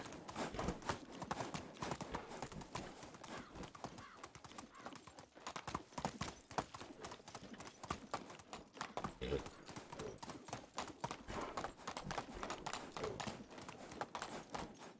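In the medieval farming game Medieval Dynasty, a horse gallops with rapid, continuous hoofbeats and an occasional whinny, and someone talks over the sound.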